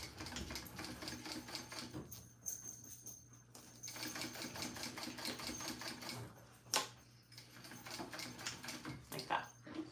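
A sewing machine stitches the sides of a clear vinyl pouch in fast, rattling bursts with short pauses, heard close under quiet conversation.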